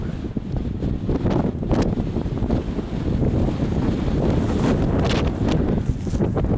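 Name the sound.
strong wind blowing on microphone outdoors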